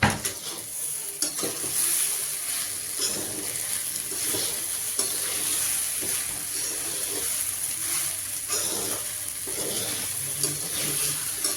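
Sabudana khichdi stirred and sautéed in a pan, a steady sizzle under repeated scraping and clinking of a spatula against the pan, continuous and close throughout.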